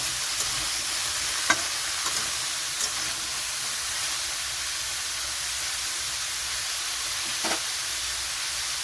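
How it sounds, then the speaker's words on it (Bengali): Ash gourd frying in a pan makes a soft, steady sizzle with faint hiss, broken by a few brief clicks and scrapes of stirring, with no one talking. "চাল কুমড়োটা সবটা দিয়ে ভালো করে এরকম ভেজে নিতে হবে একটু"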